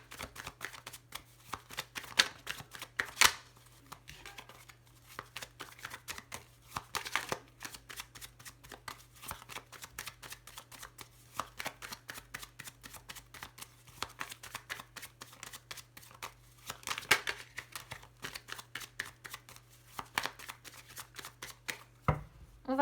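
A deck of Lenormand cards gets shuffled at close range for a long stretch, with a dense run of papery flicks and slaps, some louder bursts, a low steady hum beneath and no voices.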